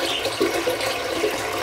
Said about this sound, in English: I'm going to fill up this pan so there's plenty of room for the fibres to move around.